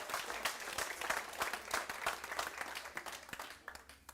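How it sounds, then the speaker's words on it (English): A hall audience at an auctioneers' AGM and national auction championship breaks into sustained, dense applause, many hands clapping steadily at moderate volume for several seconds with no pause. "I think that you're all deserving of a big round of applause"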